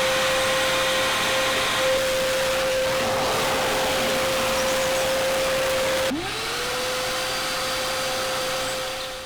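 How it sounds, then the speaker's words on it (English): A cheap Screwfix wet and dry vacuum runs steadily with a constant loud whine and airy rush, then its pitch dips and recovers partway through as the load changes, with no talking. "Wet and dry vacuum from Screwfix, cheap and cheerful."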